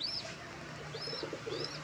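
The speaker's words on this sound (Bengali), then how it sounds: "দেখতে পাচ্ছ কালাঙ্কার জোড়াটা কিরম ডাকছে।" A pair of pigeons coos softly among loose pigeons being hand-fed, a few low murmuring coos under faint higher chirps, with a steady background hiss and no talking.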